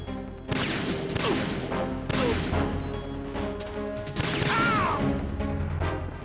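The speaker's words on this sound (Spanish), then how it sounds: "Nadie se esperaba esa granada" Explosions and gunfire in Metal Gear Solid 2 on PS2, several heavy loud blasts arriving in bursts with crackling debris between them, close and forceful.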